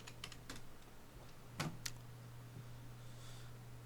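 Keys tapped on a computer keyboard while entering text in Photoshop, a few quiet clicks early on, then two sharper keystrokes near the middle over a steady low electrical hum.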